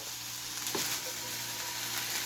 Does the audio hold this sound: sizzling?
yes